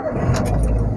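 A car engine starting up in a car that has sat unused, giving a loud, steady low rumble through one short second with no voices.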